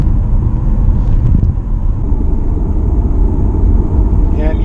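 A Mitsubishi Outlander PHEV in parallel mode cruising at 80 km/h on the road, heard from inside as a loud, steady low rumble of road and drivetrain noise with no talking.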